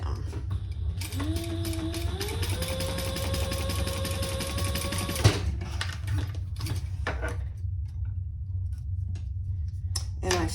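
A sewing machine stitching a retro-style sling bag, running steadily with a rapid mechanical whir and rising motor pitch, then stopping abruptly with a clack, followed by quieter handling clicks.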